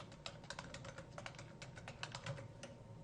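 Quiet, rapid keystrokes patter on a computer keyboard in a short burst of typing, soft and evenly spaced clicks with no voices.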